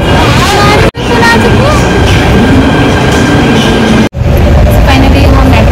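A Delhi metro train rolls into a station with a loud, continuous rumble and rail noise, interrupted by two abrupt cuts, while people talk underneath.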